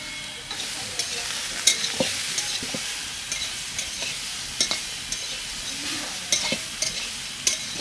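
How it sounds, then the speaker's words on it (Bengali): Brinjal slices fry in a pan with salt and turmeric, a steady soft sizzle broken by repeated light scraping and tapping of a spatula as the pieces are turned. "বেগুনের মধ্যে সামান্য পরিমাণ লবণ আর হলুদ দিয়ে ভেজে নেব।"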